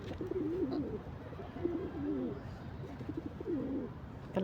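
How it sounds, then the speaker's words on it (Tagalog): Pigeons coo softly in repeated low, warbling calls over faint background noise, a few bursts spaced across the few seconds. "Ibon. Ang ibon."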